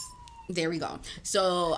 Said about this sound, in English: if you hear sirens in the background